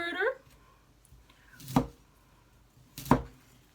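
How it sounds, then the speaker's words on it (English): Broccoli being chopped into florets on a board, two separate knife strokes about a second and a half apart, each a sharp crunching chop, near and fairly loud, with a brief voice-like sound at the start. "I'm going to chop these off into florets like this size."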